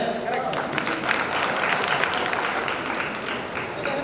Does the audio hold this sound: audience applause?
yes